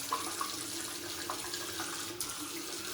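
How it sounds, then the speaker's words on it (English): Water from a tap runs steadily into a shaving bowl of soap lather, a continuous close splashing stream with a few brief clinks over three seconds. "we're going to introduce a bit more water and see what it does"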